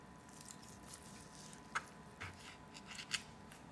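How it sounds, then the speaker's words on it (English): A knife slices steak into thin strips, giving a few faint, sharp cutting clicks spaced across a quiet, low background hum. "Now you're going to slice the steak into very thin strips."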